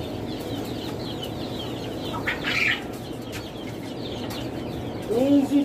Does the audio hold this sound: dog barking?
no